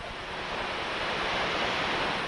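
River water rushes steadily through a deep canyon along the Ribeirão river in the Chapada highlands, a loud, continuous broadband roar with no pauses and no voices.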